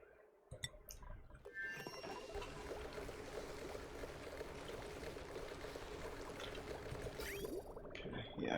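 A large volume of water pours steadily back into a chamber in the colony-building game Oxygen Not Included, a constant soft gushing rush that lasts several seconds, with a few faint game clicks at the start and end.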